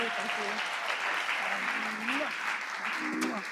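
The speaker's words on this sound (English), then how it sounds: "Let's give Melanie a round of applause." A crowd at a women's awards ceremony applauds steadily in a dense wash of clapping, with a voice speaking faintly underneath.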